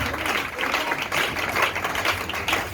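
A congregation applauding at a miracle and healing prayer meeting, vigorous continuous clapping with voices mixed in throughout.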